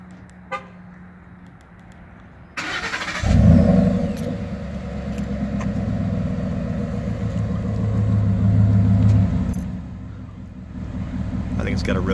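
A 2014 Ford F-150 5.0 V8 with Flowmaster exhaust cranks and fires up at close range, then settles into a loud, deep, burbling idle with a brief rev, after a short toot early on.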